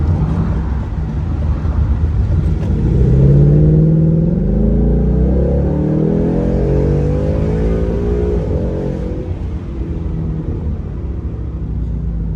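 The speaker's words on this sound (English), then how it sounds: "That was a nice 2-gear rev." A 10-speed Ford Mustang GT accelerates, its engine note rising and falling steadily as it pulls through two gears with a loud, continuous rumble.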